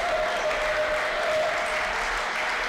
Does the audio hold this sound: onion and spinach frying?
no